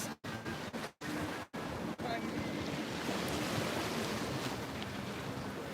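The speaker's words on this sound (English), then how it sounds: "Can you still hear the waves?" Steady rushing surf with wind buffeting the microphone, a few brief dropouts early on, then continuous wash of waves.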